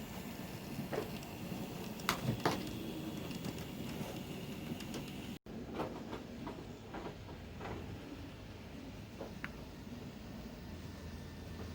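An N scale model train runs along its track at a layout open house, with light rolling clicks and small metallic ticks of the cars at close range over steady room noise, no talk.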